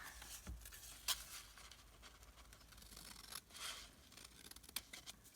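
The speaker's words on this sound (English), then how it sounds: "I'm going to cut it across here so that it will flip down and not get compromised." Paper being cut with scissors for a junk journal rectangle recipe card, giving faint, sparse snips and rustles in a quiet room, with no talking.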